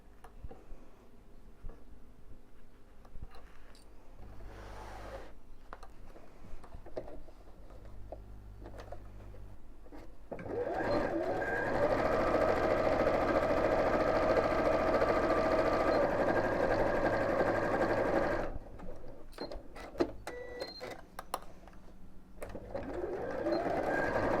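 A sewing machine stitches a fabric box bag, its steady mechanical whirr running loud and continuous through the middle, with quieter ticking and handling sounds before and after.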